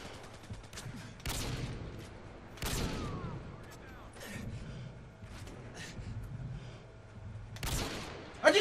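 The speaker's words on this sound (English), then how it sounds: "Who the hell is shooting?" Scattered gunshots in an online first-person shooter match, with several sharp reports at uneven intervals over low game ambience and muffled background noise.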